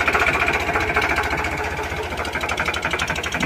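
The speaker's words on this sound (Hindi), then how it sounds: "अभी दूसरा ट्रैक्टर इधर लोड चालू है, एक ट्रैक्टर लेके जा रहे हैं" A tractor engine runs steadily while grapes are loaded at a farm near Nashik, a loud rapid chugging rhythm with rattling vibration and no talk.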